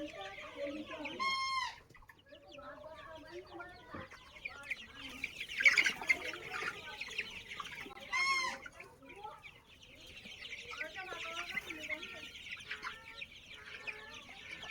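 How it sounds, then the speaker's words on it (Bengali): Sonali super hybrid chickens, about 900 birds around thirty days old on a farm, cluck and chatter continuously at moderate distance, with occasional louder calls and a crow-like cry standing out. "900 পিস সোনালী সুপার হাইব্রিড মুরগি আছে।"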